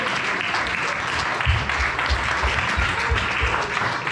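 A church congregation claps together in acclaim of the Lord at an evangelical church's third anniversary celebration in a large hall. The applause is dense and steady, filling the room for the whole stretch, with a faint rhythmic thump underneath.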